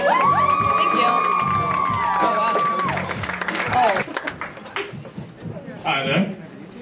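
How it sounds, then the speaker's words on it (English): Audience applause and cheering for a comedian at a stand-up show, a dense crowd roar that thins out after a few seconds into scattered claps and whoops, with a loud tonal squeal and some voices mixed in. "Please give a big round of applause to Andrew Moir."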